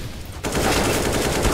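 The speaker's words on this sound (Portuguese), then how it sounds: "Olha como esse cara atira, mano" Rapid gunfire in the game CS:GO breaks in abruptly after a quiet moment and continues as a dense, loud, continuous volley.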